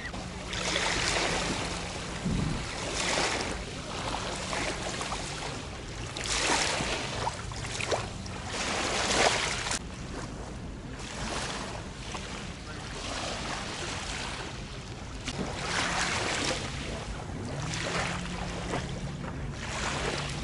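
Sea surf washing steadily against the shoreline at a Marmaris beach in Turkey, with sunbeds set right at the water's edge; a continuous broadband wash with gentle swells, moderately loud and without talk.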